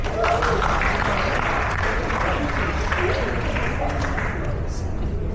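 A workshop audience applauds steadily and loudly, the clapping a continuous dense wash of noise that holds for the whole stretch.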